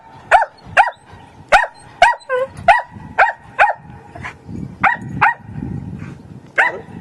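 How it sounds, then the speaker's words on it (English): A dog barks repeatedly and loudly close by in an irregular series of sharp barks, with some whimpering and growling mixed in between. "My dog's trained to bite loyalists."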